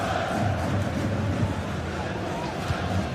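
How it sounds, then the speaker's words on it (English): A large stadium crowd roars steadily in a football video game, a dense continuous wall of cheering and chanting without clear breaks. "The crowd certainly think so. Just listen to that noise."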